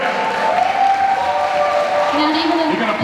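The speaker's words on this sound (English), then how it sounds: "You can applaud all you want" Audience applause fills a convention panel hall, a dense steady wash of clapping with crowd noise and a sustained voice or singing tones running through it, staying loud throughout.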